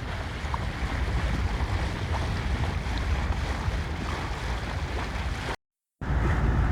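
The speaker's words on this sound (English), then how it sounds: "No wind to speak of still, so we're still motoring up the island." Sailboat motoring under engine along a Caribbean island coast in calm air, a continuous broad rush of water and engine drone with wind buffeting the microphone, broken by a short gap of silence near the end.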